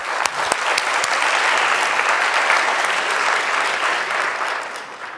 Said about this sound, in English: So let's give each other a round of applause.